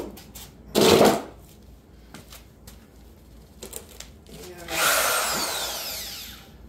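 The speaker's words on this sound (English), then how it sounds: "And it's a Harbor Freight hammer drill" A Harbor Freight hammer drill whirs into cinder block in two bursts, a short one near the start and a longer rising grind later, with light clicks and shuffling between.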